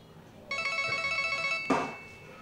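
A telephone rings with a rapid trilling bell burst lasting about a second, followed by a clunk as it stops, in a quiet room.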